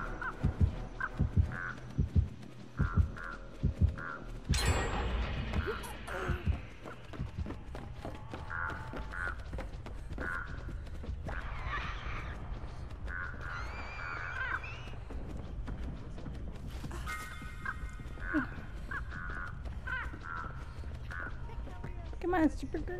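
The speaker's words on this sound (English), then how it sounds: "Come on, super birds, go away." Crows caw repeatedly in the horror game Dead by Daylight, harsh calls recurring near and far over game ambience, footsteps and scattered effects, with a voice speaking at times.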